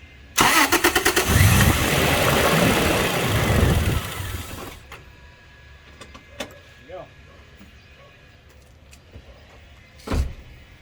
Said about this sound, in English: Now I'm going to start the engine. It probably will not actually start. It may stumble, but it'll drain the rest of the fuel out.